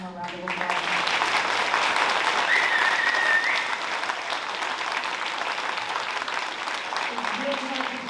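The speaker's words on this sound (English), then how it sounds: "so let's give them one more round of applause." Sustained applause from a band concert audience fills the hall, steady and fairly loud for several seconds, with voices murmuring underneath.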